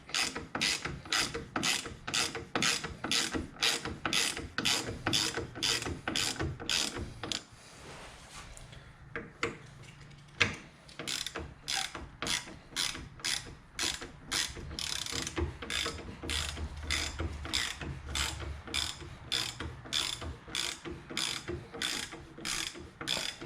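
A hand ratchet tightens the mirror bolts on a Jeep Wrangler TJ, giving a fast, steady run of close, crisp clicks. The clicking stops briefly partway through, then resumes with the same even rhythm.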